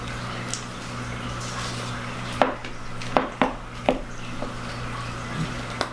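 A utensil knocks and scrapes against a bowl while flour is mixed into buttermilk pancake batter, several distinct taps at uneven intervals over a steady low hum, with no talking.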